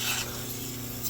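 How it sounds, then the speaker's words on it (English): Short, close bursts of cleaner spray hiss onto a dirty surface, a quick pump at the start and another at the end, over quiet background hum. "I like to spray it up and down."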